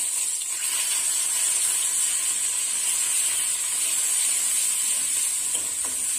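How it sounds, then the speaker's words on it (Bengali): A steady, loud sizzle of onion paste frying in hot oil hisses without pause, bright and close. "পেঁয়াজটা একটু লাল লাল করে ভাজা হবে।"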